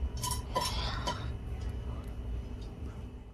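Edible gum roasting in ghee in a pan is stirred with a metal spoon, a few quick clinks and scrapes near the start fading into a low hum, with a voice speaking over it.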